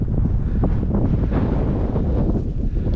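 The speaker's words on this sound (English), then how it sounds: "that wind makes it a little exciting" Strong wind blows across a mountain hiking trail, a loud, continuous low roar with heavy buffeting against the microphone throughout.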